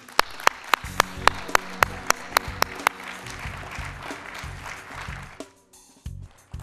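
Audience applause at a community college trustees gathering, opening with a run of sharp individual claps that swells into a sustained burst of clapping and then fades out near the end.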